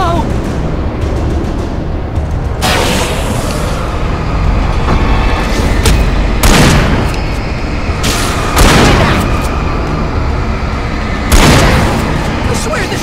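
Gunfire in the Alan Wake video game during a fight to hold off attackers, a string of loud booming shots and bursts spread across the clip over a dense, noisy background.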